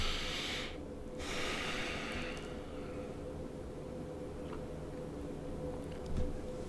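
A single deep breath is drawn in near the start, an audible airy inhale that fades into a quiet room with a low steady hum and faint ticking afterward.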